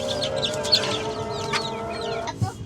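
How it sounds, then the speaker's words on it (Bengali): A large hen clucks softly in short, scattered calls against a steady background hum, with another bird chirping faintly. "আমরা এই যে ওকে বের করে আনছি আমাদের বড় মুরগিটাকে"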